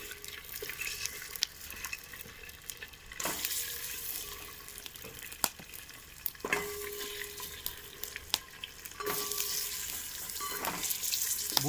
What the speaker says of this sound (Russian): добавляем и сразу размешиваем